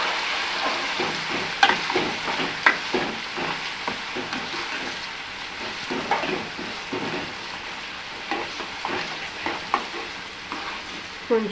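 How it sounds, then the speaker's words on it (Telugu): Coconut pieces for chekkara pongali fry in a pan with a continuous close sizzle, broken by scattered scraping and tapping strokes as they are stirred, and no voices. "ఇప్పుడు కొబ్బరి ముక్కలు కూడా వేసుకొని వేపేసుకుని"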